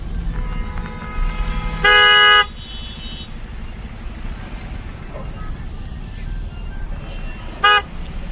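Traffic on the Mumbai-Goa highway near roadworks: a loud, near car horn blares for about half a second, and a second short honk comes later, over a steady engine and road rumble.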